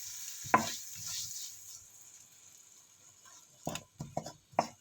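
Rice for Filipino beef tapa tossed in a pan with salt, pepper and oyster sauce, giving a few sharp scraping stirs and soft sizzle bursts near the start and end, with quiet stretches between.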